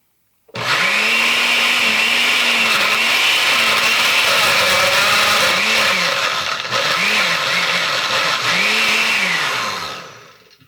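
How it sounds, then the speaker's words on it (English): A blender crushes ice for a pineapple daiquiri, kicking on abruptly into a loud, sustained whirring roar whose pitch wavers as the ice churns, then winding down after about ten seconds. "We're going to blend this until it's nicely mixed,"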